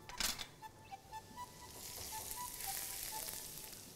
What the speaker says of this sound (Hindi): तेल, और तेल में लहसुन, थोड़ा ज़्यादा सा लहसुन डालेंगे